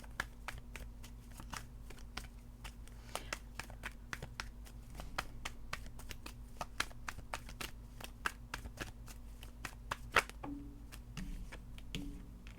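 Tarot cards are shuffled and drawn during a money reading, giving a steady run of crisp, close card snaps and flicks at a fairly even rhythm over a low background hum.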